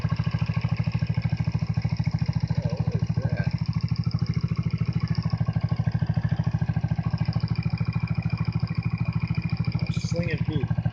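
A Hammerhead engine idles steadily at 1,500 RPM with an even, continuous putter and a rapid, regular pulse throughout, plus a few faint higher chirps near the end.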